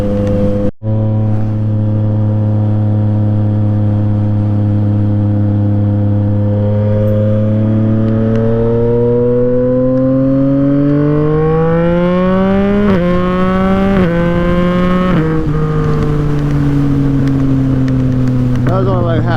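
A Yamaha MT-09 motorcycle accelerating at half throttle: a loud, close engine note climbs steadily, with quick gear-shift dips near the end and a continuous wind and road roar underneath.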